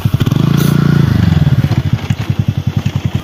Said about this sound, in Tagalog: katakot magmotor dito sa bundok, eh